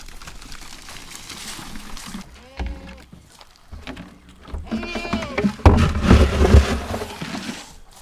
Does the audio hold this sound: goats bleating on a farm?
yes